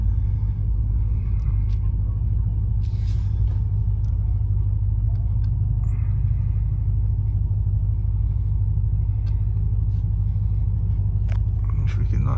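A 1980 Porsche 928, 42 years old with some play in the steering, driving along a road, heard from inside as a steady low engine and road rumble that stays even throughout with faint ticks above it.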